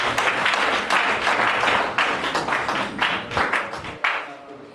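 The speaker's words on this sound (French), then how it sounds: "que nous fassions un tonnerre d'applaudissements à nos Djatigi" Audience applause at a media training workshop in Sikasso, a steady wash of many hands clapping that thins out and fades toward the end.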